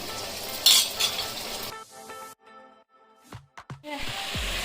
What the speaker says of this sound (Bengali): আদা রসুনের পেস্টটা আর পেঁয়াজটা একটুখানি ভালো করে ভাজা ভাজা করে নিয়ে